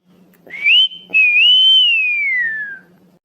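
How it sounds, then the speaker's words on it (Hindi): A person whistles loudly and close, a short rising note and then a longer tone that slowly glides downward. "तो तू सीटी मारा थो"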